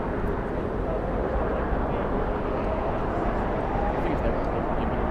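Airliner on a Honolulu flight at LAX in strong winds, a loud continuous broadband roar of engines and wind rush holding steady throughout, with no clear break or change.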